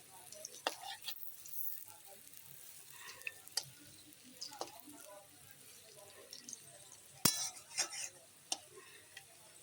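Quiet frying of lentil fritters in oil with soft sizzling, broken by a few sharp clicks and scrapes of a utensil; faint speech occurs now and then.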